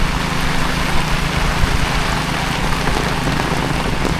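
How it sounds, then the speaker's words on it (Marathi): Steady rain pours onto surfaces in a Konkan village, a dense, even hiss of drops with low rumble underneath, continuous and fairly loud throughout with no voices. "पावसाला पण सुरुवात झाली."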